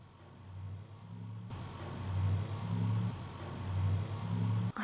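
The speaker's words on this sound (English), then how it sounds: "I'm gonna tag a car as well in the distance." A car passes in the distance outside a house at night, a low engine rumble that swells and rises in pitch twice, faint and steady, with no voices.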